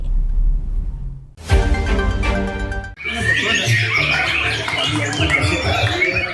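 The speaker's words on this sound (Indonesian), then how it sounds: "Beginilah suasana event lomba burung kicau" Songbirds chirp densely and continuously at an outdoor bird singing contest at a village culinary market in Pati, Central Java, loud and busy after a few seconds of other crowd sounds and talk.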